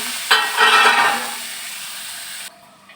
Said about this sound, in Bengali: আর একটু পানি দিয়ে আমি এটাকে ভালো করে কষিয়ে নেব।